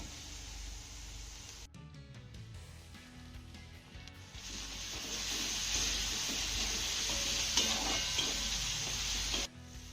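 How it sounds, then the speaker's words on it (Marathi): Chopped tomato being sautéed in a pan, a soft continuous sizzle with intermittent scraping and stirring clatter, close and moderate in level, with a brief drop in the middle and no talking. "आपल्याला एक चिरलेला टोमॅटो घालायचा आहे आणि तो देखील छान असा मौसूद होईपर्यंत परतून घ्यायचा आहे"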